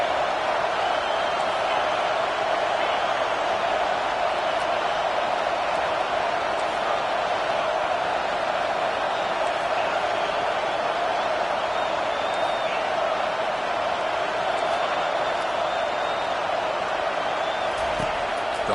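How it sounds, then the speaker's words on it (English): Crowd noise at an American football game involving Kansas on a third down, a steady, dense roar of many voices filling the stadium and holding at an even loudness throughout. "Third down and the crowd really getting into it."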